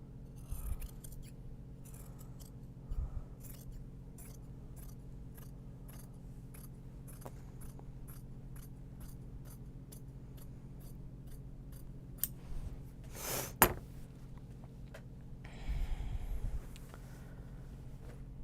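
Scissors trimming interfacing for a Japanese fabric bag, a long run of quick, light snips in a steady rhythm, close and crisp, with a few louder rustles of the material being handled partway through.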